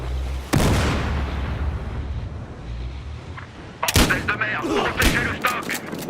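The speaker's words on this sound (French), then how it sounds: "Je peux aider avec une grenade." A grenade explosion booms loudly in the Battlefield Hardline multiplayer video game, followed by sharp bursts of gunfire and further blasts nearby, dense and close amid the battle.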